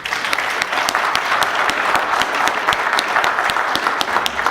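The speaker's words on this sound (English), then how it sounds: "give a round of applause for our worship team" A church congregation applauding its worship team, a steady, even roar of many hands clapping with distinct individual claps popping through, held at constant loudness.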